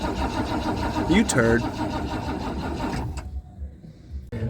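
A 1979 Ford Bronco, freshly pressure washed, cranks with a rough mechanical churning from its engine that cuts off after about three seconds, while someone speaks over it.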